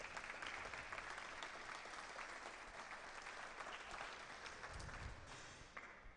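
A crowd at a squash tournament final in Ottawa claps warmly for about six seconds, with full, even applause from the stands that tapers near the end.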